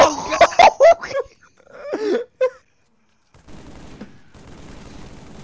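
Rapid bursts of assault rifle fire in the video game Cursed Halo 3, loud at first, then fading into quieter scattered shots and game noise.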